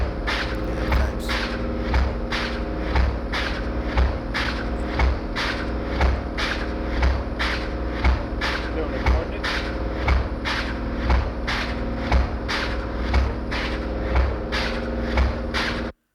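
Pile driver pounding piles at a World Trade Center construction site in Lower Manhattan: steady, regular heavy thuds roughly every second, repeating over a dense, loud mechanical drone.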